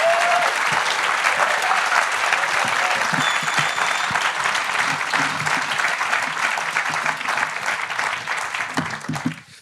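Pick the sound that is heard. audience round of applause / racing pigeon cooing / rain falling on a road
audience round of applause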